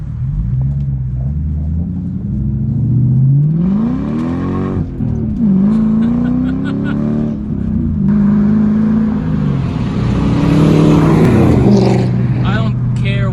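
A Mercedes E55 AMG V8 converted to a manual gearbox accelerates through the gears, its deep rumble rising in pitch, dropping at each shift and climbing again, loud and close, with someone talking over it.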